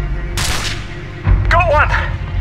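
Gunfire in Call of Duty Modern Warfare, a sudden loud burst of shots followed by booming reports and a voice calling out over the fire.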